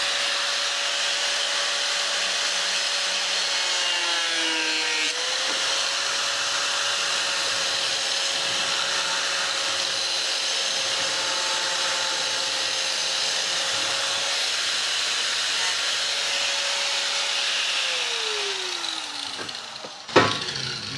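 Power tool cutting a fiberglass tail light filler panel for a 1979 Cadillac DeVille, a loud steady high whine held for about twenty seconds with a dip in pitch near five seconds, then winding down and stopping.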